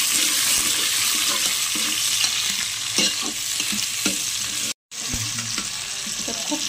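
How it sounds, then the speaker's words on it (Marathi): Tomatoes sauté in hot oil in a pan for dum biryani masala, giving a continuous close sizzle broken by repeated spoon-stirring scrapes, with one brief silent gap. "टमाटा बी चांगल्या पद्धतीने परतून घ्यायचा."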